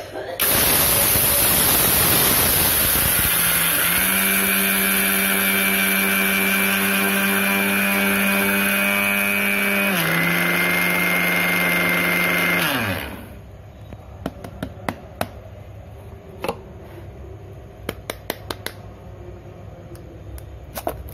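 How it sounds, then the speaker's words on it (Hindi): A mixer grinder whirs loudly and steadily for about thirteen seconds, grinding sugar into powder, dips in pitch briefly midway, then spins down to quiet with a few faint clicks after. "मैं मिक्सी में देके इसको एक बार पीस लूंगी"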